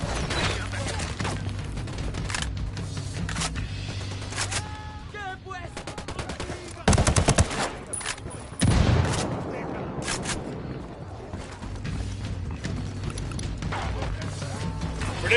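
Gunfire in Ghost Recon Wildlands, with dense bursts of automatic rifle fire and sharp single shots, loud and close, plus heavier blasts near the middle.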